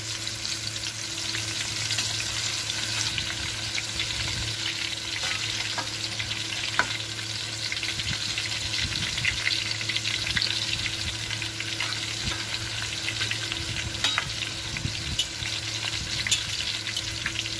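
Chilli bonda (bajji) batter frying in hot oil, with a steady close crackling sizzle and occasional stirring clicks, continuous with no voices.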